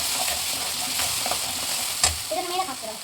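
Masala for a fish sambar crackles and sizzles in a hot pan, a dense close frying hiss with a sharp pop near the end followed by a few scraping stirring strokes.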